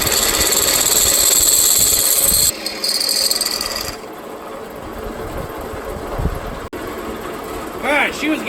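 A Harbor Freight titanium nitride drill bit bores into metal to make a breaker bar ratchet, with a loud sustained whine and grinding that cuts off abruptly, followed by quieter workshop noise and brief rattles.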